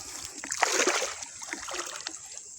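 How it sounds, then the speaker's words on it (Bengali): Live taki snakehead fish thrash in a China doari trap net being hauled from the water, giving a burst of close, lively splashes and sloshing that settles into lighter dribbling. "প্রিয় দর্শক দেখতে পাচ্ছেন টাকি মাছ অলরেডি ফালাফালি করতেছে"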